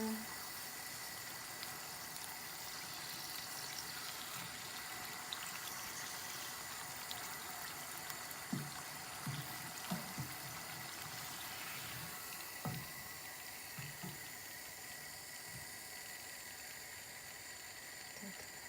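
Water runs and hisses into a kitchen sink as cooked food drains, a faint, steady flow with a few soft clunks and splashes partway through.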